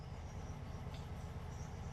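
A 1957 VW Beetle with a 1500cc single port engine idles in a steady low rumble, fairly quiet and even throughout, with a faint hiss above and no voices.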